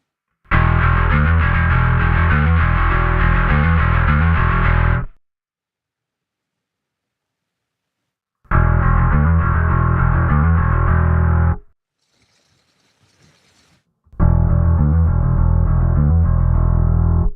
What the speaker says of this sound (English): as you can hear, this really changes the character of the distortion